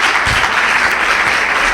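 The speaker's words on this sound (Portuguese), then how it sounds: "Aplauda o Senhor na vida do pastor Vieira" Loud, close applause from a church congregation, a brief continuous wash of many hands clapping at steady intensity.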